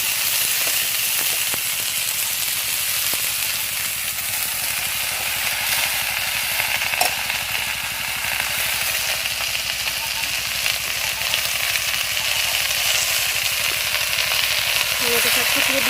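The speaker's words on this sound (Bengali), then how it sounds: "নেটে শাকটা দিয়ে ভালো করে একটু কষাবো" Nettle greens sauté in a pan with a dense, unbroken hiss that stays level from start to finish, a voice faintly present beneath it.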